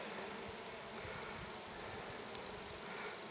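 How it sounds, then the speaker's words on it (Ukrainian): Steady honeybee buzzing with a continuous hum, like bees droning close by over the remains of phacelia flowers, with no voices. "І тут гудить бджола."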